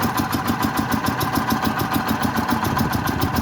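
Newly installed engine in a John Deere Gator settling into a steady idle, an even rapid chugging pulse at close range that carries on throughout with no voices.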